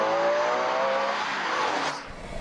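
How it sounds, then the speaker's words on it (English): A Ferrari V12 engine sings in a smooth, high rev, a loud close tone holding then sweeping upward before cutting off abruptly near the end, with a faint tire noise underneath. "But the best thing about any Ferrari is the engine. It's the heart of the car. It's a V12, it's super smooth"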